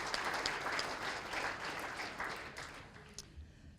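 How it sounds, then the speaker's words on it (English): An audience at a school district's annual state-of-the-schools event gives a brief, fairly quiet round of applause that thins out and fades near the end. "Let's give them one more round of applause."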